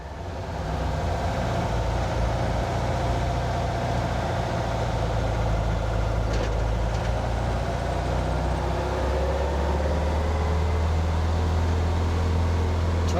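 Car engine fed by dual Weber 40 IDF carburetors running steadily on the idle circuit at about 2,200 RPM, a continuous close drone with a deep low-end hum that stays even throughout.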